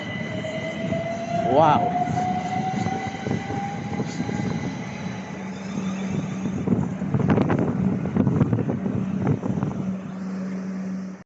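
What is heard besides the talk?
Class 455 trains at Clapham Junction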